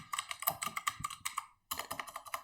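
Quick bursts of clicky computer keyboard typing as a search query is entered, close and crisp, with a brief pause before a second run of keystrokes.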